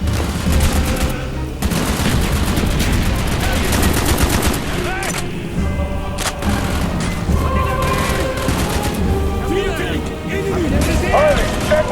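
Rapid gunfire and heavy mortar blasts crash through a chaotic battle in the video game Black Ops Project Nova, with dense bursts of shots and booms continuing under shouted voices throughout.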